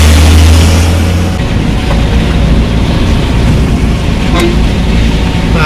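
Vehicles passing one side at a time at a landslide clearing site on a mountain road, a loud continuous rumble of engines and traffic close by with a heavy low drone at first, no talking.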